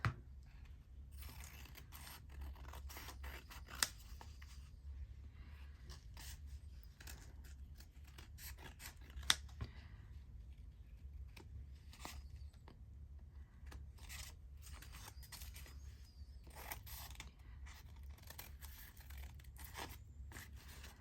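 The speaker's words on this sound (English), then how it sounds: "Grab my scissors." Quiet, irregular snips and rustles of scissors cutting paper Easter tags, with a few sharper clicks scattered over a low background hum.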